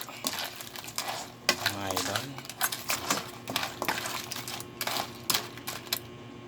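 Crab stirred in a pan with margarine and tomato sauce, giving repeated clinks and scrapes of utensil on cookware with a steady background hiss, while a voice talks over it.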